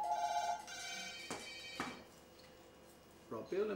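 A telephone rings at a septic tank emptying company's office, a short electronic ringing tone heard at the start, followed by a voice speaking.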